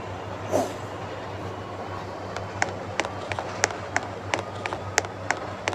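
A subway train on a subsurface line rumbles steadily at low volume, with a run of sharp rhythmic clicks and clacks from the wheels over the track.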